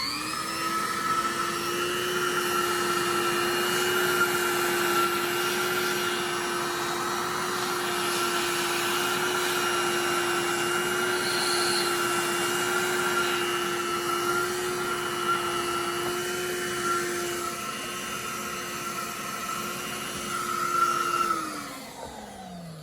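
A heat gun blows hot air onto a stuck oil pan, a loud, steady whirring roar with a constant tone that holds for about twenty seconds and then winds down.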